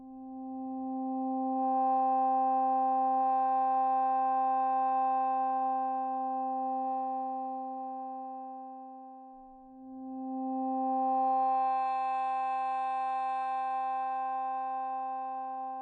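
A sustained, hollow band-pass filtered synth vocal tone with a vowel-like quality swells and fades twice, alone and fairly steady.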